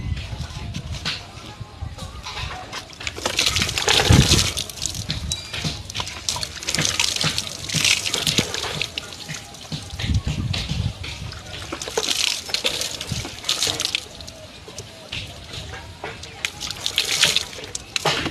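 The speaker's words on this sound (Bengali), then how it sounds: "এখানে জল তুলে তুলে নিয়ে, দেখেছো? তাই গাটা ভিজিয়ে নিই" Water is scooped and poured repeatedly over a body during bathing, with splashing and trickling in uneven waves throughout, close by, while a voice talks at times.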